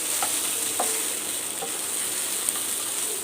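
Sausages fry in a pan with a soft, steady sizzle and crackle, faint and continuous, with a few small pops and no voices.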